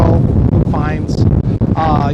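Wind gusting across an outdoor microphone, a constant heavy rumble under someone talking throughout.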